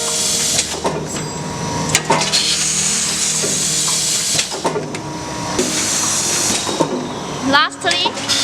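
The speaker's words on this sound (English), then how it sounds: "After filling, the bag mount will be leveling by machine for bag sealing." Doypack filling and sealing machine works on premade zipper bags, giving off repeated mechanical clacks, hissing air bursts and rubbing sounds from the sealing jaws, with a voice talking over the machinery.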